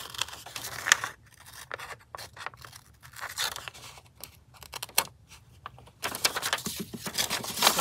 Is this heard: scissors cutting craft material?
yes